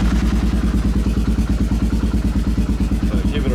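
A motorcycle engine runs loud and close with a steady, fast, even pulsing beat and a mechanical clatter throughout.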